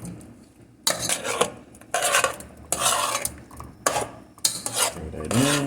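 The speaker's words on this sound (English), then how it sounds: "Stir that in." A spoon scrapes and stirs through Creole-spiced shrimp and grits in a metal pot, in several repeated bursts of close, gritty scraping with short pauses between them.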